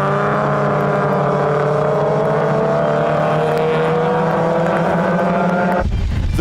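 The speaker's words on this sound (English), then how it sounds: "Round the boot, and the Datsun 100 GX is pulling alongside the Ford Prefect." Racing cars, a Datsun 100 GX and a Ford Prefect, rush past together on a circuit, their engines a loud continuous roar with shifting pitch, cutting off abruptly near the end.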